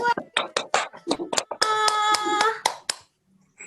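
A child and others clap hands in a burst of sharp, closely spaced claps lasting a few seconds, with a brief cheering voice mixed in, then quiet.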